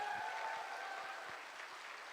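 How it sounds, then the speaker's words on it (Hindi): Faint audience applause at a Crown Diamond welcome gathering, a soft continuous patter of clapping for about two seconds with a few sharper claps near the start. "सबसे शानदार जानदार तालियां होनी चाहिए।"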